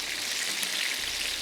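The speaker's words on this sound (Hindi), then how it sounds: "तो हम इस पर ये गरम ऑयल डालेंगे" Hot oil is poured over prawn fried rice, producing a brief, bright, crackling sizzle that lasts just over a second with no talking.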